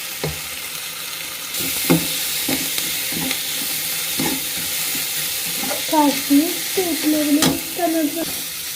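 Onions for a rice dish being stirred and fried in a pan, with close scraping strokes of a spoon and a steady sizzle that grows livelier toward the end.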